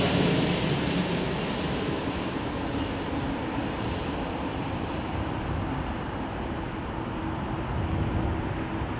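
Steady, broad jet roar from a Virgin Boeing 787-9 at Heathrow Airport, with a sustained engine whine that fades slightly over time and no talking.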